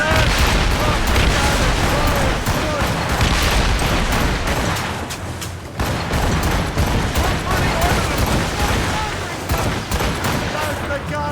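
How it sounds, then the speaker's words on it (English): Ship cannons firing in a naval battle in Assassin's Creed Rogue: a loud, dense, unbroken barrage of booms and crackling gunfire, with voices shouting over the din. "Fire! Put a shot through her there!"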